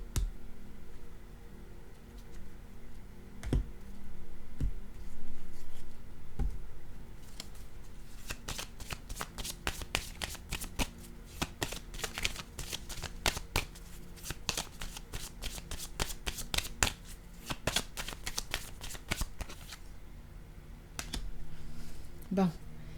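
Playing cards are shuffled during a tarot-style card reading, giving repeated crisp riffling flutters and clicking bursts, dense in the middle stretch, with a few isolated taps and a voice speaking at times.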